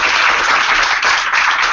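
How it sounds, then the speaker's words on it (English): A room full of people applauds a guest speaker at a social media evening, a dense, steady wash of clapping, loud and close, with no talk over it. "Please give our guest a round of applause."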